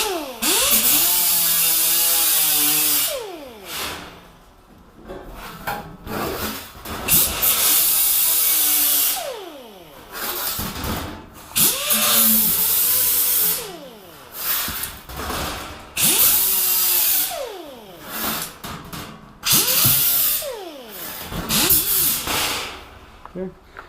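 A grinder works the edge of a painted panel in repeated close bursts, its motor pitch rising and falling as it spins up, bites and eases off, with short pauses between passes.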